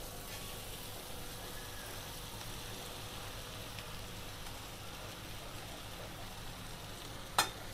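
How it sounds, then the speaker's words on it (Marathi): Flattened rice poha being tipped onto softened cooked onions in a pan and stirred, giving a low steady frying sizzle throughout with one sharp click near the end, no voices. "आता यातच मी पोहे घालून घेते."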